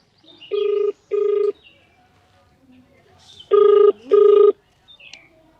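Two pairs of electronic telephone rings, each a short double burst, separated by a quiet pause, with faint background noise between them.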